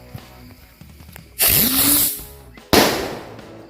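A firecracker's fizzing hiss rises into a loud burst, and a second sharp bang follows a second later; nearby and loud, at night, with no voices.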